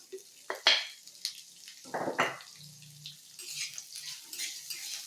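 Amla pieces tossed with salt in a pan for pickle, with intermittent scraping and clattering stirs and a soft sizzling wash that grows busier toward the end.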